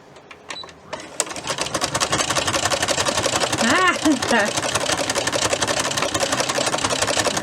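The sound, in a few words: Brother sewing machine with ruffler foot running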